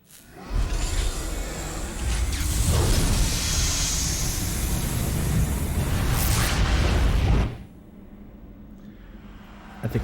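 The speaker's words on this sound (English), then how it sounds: "What was that rumbling? That would be the explosion." A loud, sustained explosion rumble in the PS2 game Xenosaga Episode I, a broad roaring wash lasting about seven seconds before it cuts off abruptly to a quiet background hum, with no voices.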